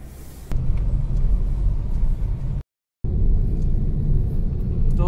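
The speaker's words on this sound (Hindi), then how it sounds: "फ्रेंड हमें गाड़ी अब टेस्ट ड्राइव के लिए लेके निकल रहे हैं।" Mahindra e-Verito electric sedan setting off on a test drive after a differential oil change, heard as a steady low rumble of road and drivetrain noise from inside the car, broken by a brief gap of silence partway through.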